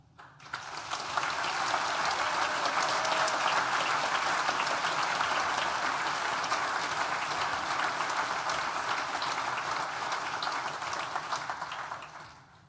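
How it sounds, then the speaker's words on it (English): Sustained, dense applause from a large graduation ceremony audience, a steady wash of many hands that swells within the first second and holds evenly for about eleven seconds before fading at the end. "So I can invite you now to have a raucous round of applause as a thank you to all those who have helped."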